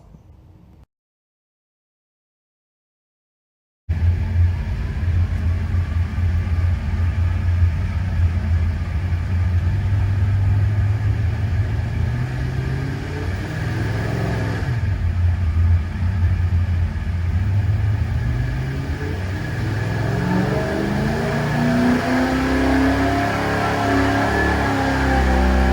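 A car engine running on gasoline roars on a dyno after a brief silence, with a steady loud rumble that climbs and sweeps through the revs during the pull.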